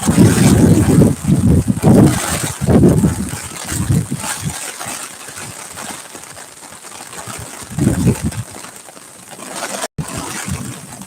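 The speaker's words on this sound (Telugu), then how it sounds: "వర్షం అయితే బాగా పెరిగింది" Heavy rain falling at night in Guntur, heard as a steady hiss with gusty, rumbling wind buffeting the microphone throughout.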